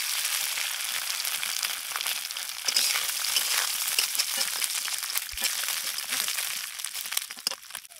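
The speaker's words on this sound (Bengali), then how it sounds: "তেল গরম হয়ে গেছে, এবার তেলে দিয়ে দেব গোটা সরিষা, ভেজে রাখা পুঁটি মাছ দিয়ে দেব।" Whole mustard seeds and previously fried small puti fish tipped into hot oil, giving a continuous crackling, spattering sizzle with sharp pops and a fresh surge of frying noise partway through.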